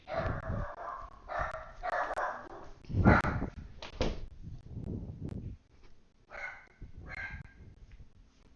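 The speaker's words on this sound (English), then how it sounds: "Sorry, it's my dog." A pet dog indoors lets out a string of barks mixed with higher whimpers and yelps, irregular bursts with short pauses, fairly close and moderately loud.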